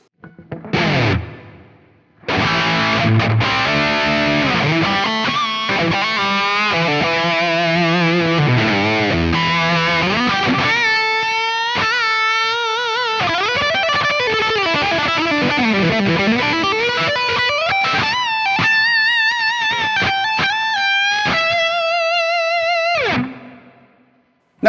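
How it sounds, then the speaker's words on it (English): Heavily distorted metal guitar from a Line 6 POD Go running a plate reverb, playing riffs and sustained bent lead notes that ring out with a lush decaying tail, loud and alone for about twenty seconds after a brief opening. "Okay, bring in the plate reverb."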